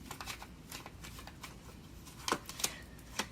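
Tarot cards shuffled and drawn by hand: a run of soft riffling flutters followed by several sharper snaps and flicks as cards are pulled from the deck, close and fairly quiet with no talking.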